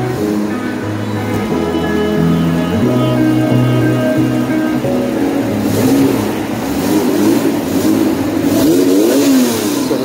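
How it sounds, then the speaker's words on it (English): Honda NSX engine, recently rebuilt with new head gaskets, revs loud and sustained on a dyno in a workshop, its pitch climbing, dipping and rising again across the run. "got an NSX on the dyno right now"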